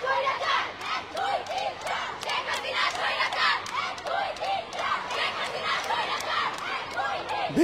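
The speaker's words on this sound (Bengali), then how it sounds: "তারা কিন্তু স্লোগান দিয়ে যাচ্ছেন, উই ওয়ান জাস্টিস, জেগেছে রে জেগেছে, ছাত্র সমাজ জেগেছে" Crowd of schoolgirls at a student protest in Dhaka chanting slogans in loud, rhythmic unison, shouts rising and falling continuously at a moderate distance.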